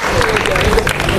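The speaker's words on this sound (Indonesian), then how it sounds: "Guys, tepuk tangan dong buat dia." Brief burst of classroom applause for a student at a school morning assembly, many hands clapping together, close and loud, with voices mixed in.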